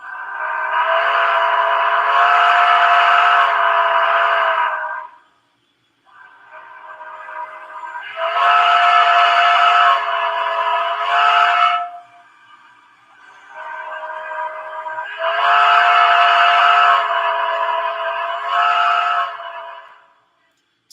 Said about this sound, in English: here's the whistle. It's a little bit of an echo to it.